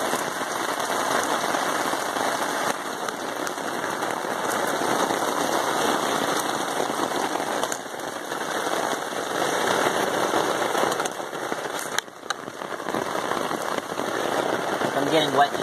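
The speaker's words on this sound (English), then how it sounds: "It is just fucking torrential downpour right now." Torrential downpour during an incoming storm, a dense, constant hiss and patter of heavy rain for the whole span, with scattered sharper splashes and no clear speech.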